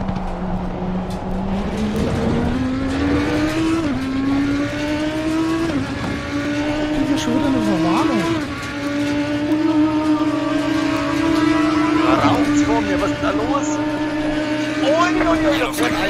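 A race car in Assetto Corsa Competizione spins out, its engine note rising and dropping sharply with revs and skids, loud throughout while a player talks excitedly over it.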